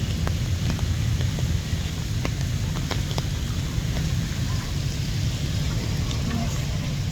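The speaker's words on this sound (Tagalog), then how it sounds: "it's so much raining" Heavy rain pours down steadily outdoors, a dense, loud hiss close to the microphone with scattered sharp drop impacts and a low rumbling wash throughout, with no letup.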